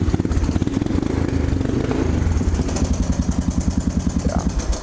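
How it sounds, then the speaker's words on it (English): Honda pit bike fitted with a loud 110 pit bike exhaust, idling close by with a rapid, uneven putter that settles into a steady pulsing thump, sharp and prominent. "he put a 110 pit bike exhaust on it. You can hear it. It's pretty loud"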